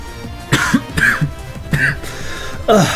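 A person coughs and clears their throat several times in rough, throaty bursts, close and fairly loud, with brief pauses between fits.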